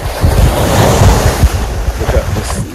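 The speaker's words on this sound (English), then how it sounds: "the energy of the ocean is so nice, so refreshing" Ocean surf breaking on a Jamaican beach at Falmouth, a steady broadband wash of waves with wind buffeting the microphone, loud and continuous with no talking.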